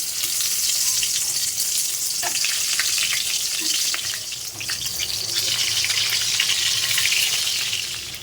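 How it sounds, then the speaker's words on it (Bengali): Eggplant fries in a new wok with a steady, loud sizzle that runs the whole time, broken by small stirring clinks and pops, close up with no talking. "তা চলো বেগুন ভাজা দিয়ে স্টার্ট"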